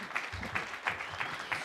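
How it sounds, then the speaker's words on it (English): Faint applause from attendees at a community candidate night meeting, a short spell of soft, pulsing clapping heard from a distance. "give yourselves a round of applause"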